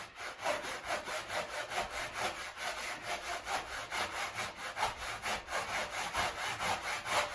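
Fingernails rub against the floor during a home gym mobility exercise, producing a quiet, rhythmic scraping with regular strokes, close by and without speech.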